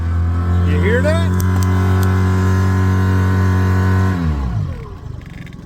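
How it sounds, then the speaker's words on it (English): A Mercury 9.9 outboard motor with a spun propeller revs up loud and close, its engine tone holding steady for about four seconds before dropping away quickly. "we've spun a prop on the outboard. You hear that?"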